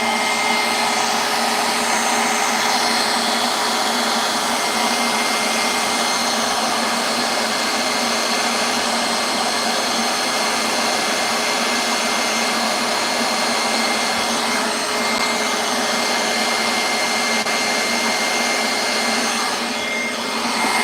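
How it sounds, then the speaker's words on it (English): A hair dryer blows steadily and loudly at close range while drying acrylic paint on coasters, a constant whooshing roar with no pauses and no talking. "we're going to use the other blow dryer."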